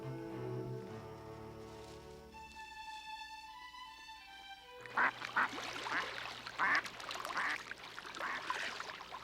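Mallard ducks quack repeatedly in short bursts over a steady musical backdrop, the calls loud and close in the second half.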